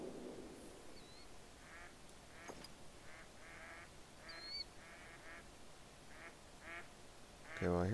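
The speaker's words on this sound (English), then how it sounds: "I hear some ducks," Ducks quacking in a hunting video game, several short quacks scattered at a distance over a steady outdoor hiss, with faint game sounds and no talk.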